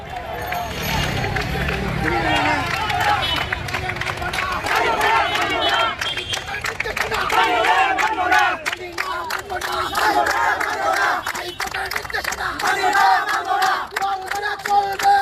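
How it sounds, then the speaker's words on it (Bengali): Auto-rickshaw drivers in Mohammadpur, protesting a High Court ruling that bans auto-rickshaws, chant slogans together in a loud, dense crowd, a continuous rhythmic roar of many voices. "আমরা দেখছি এখানে স্লোগান দিচ্ছে এখানে"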